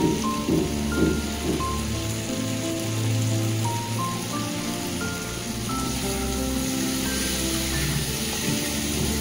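Capsicum and tomato cook in a pan for chilli paneer, giving a steady, soft, rain-like sizzle that runs throughout beneath sustained tonal background music.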